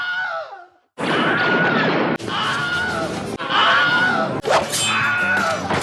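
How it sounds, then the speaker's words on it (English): The Wilhelm scream, a stock cinema scream effect, plays off screen in an animated Simpsons holiday short. It comes as loud, harsh, drawn-out screaming bursts with abrupt cuts between them. "stock cinema sound effect, the Wilhelm scream, plays off screen"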